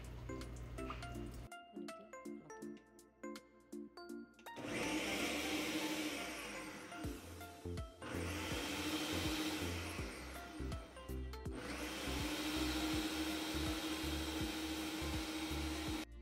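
An electric mixer whisks orange cake batter of sugar, oil, vinegar and vanilla in three loud, steady whirring bursts separated by short pauses, with faint clinks in the quiet gaps.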